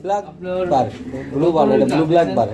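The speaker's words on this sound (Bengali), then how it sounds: "জায়েন্ট হুমা কবুতর" Giant Homer pigeons coo in a series of soft, throaty, warbling calls close by, with people talking over and around them throughout.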